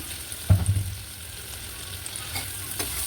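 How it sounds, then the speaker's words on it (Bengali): Vegetables frying in ghee with ginger-garlic paste in a cooking pot, stirred with a brief scraping clatter near the start and then a steady low sizzle, no talking. "এখন এড়ে চেড়ে ভেজে নিব কিছুক্ষণ"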